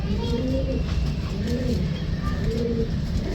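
Soft, repeated pigeon coos in a low rolling rhythm, close by, over a steady murmur of background noise.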